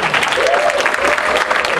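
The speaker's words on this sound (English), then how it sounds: "we should have a huge round of applause for Rick Remender" Applause from a comic convention panel audience at Fan Expo 2012, a dense steady wash of clapping through the whole stretch, with a faint voice briefly audible over it.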